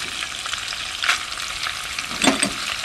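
Pork sizzles in hot cooking oil in a pot, a dense, steady frying crackle with a few louder spits and stirring bursts, close and continuous with no voices.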